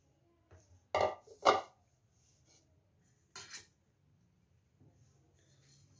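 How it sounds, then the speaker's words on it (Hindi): A mixing bowl is set down and handled in a kitchen, giving a few sharp clinks and knocks of dish contact followed by a later pair of softer taps, with quiet room hum between. "हम एक मिक्सिंग बाउल ले लेंगे"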